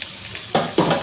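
Mint and coriander leaves drop into hot ghee for paneer pulao, setting off two sharp bursts of close sizzling frying with a stirring scrape, each swelling and holding loud after a quiet start.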